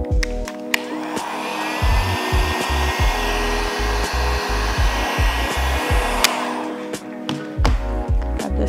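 Heat gun or hair dryer warming a vinyl kit sticker on a curved area, a steady airy blowing roar with quick clicks and taps interrupting it, close and fairly loud, no talking.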